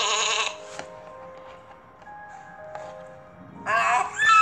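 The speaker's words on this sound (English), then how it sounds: "This is a donkey." A donkey brays in a children's Bible story cartoon, with two short harsh bursts, one at the start and one at the end, and a quiet stretch between them.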